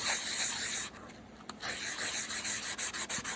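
A hand rubs plastic T-161 model tank tracks with an abrasive, making a close, dry scratching that runs on, breaks off briefly, then turns into a quick, even run of short back-and-forth strokes.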